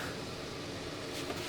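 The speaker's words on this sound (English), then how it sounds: "So excuse the fan noise" A steady, broadband whir of a fan inside a Sprinter van runs throughout at an even level, with no talking over it.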